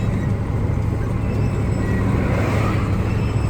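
A loaded KAMAZ truck carrying about 13–14 tonnes of corn, without a trailer, cruises at around 60 km/h on a highway, giving a steady, loud, continuous engine and road drone with no talking.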